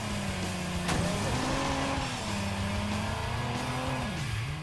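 Race car engines roar steadily in an online race in Watch Dogs, a continuous loud drone with pitch rising and falling as they accelerate, with brief tire squeal.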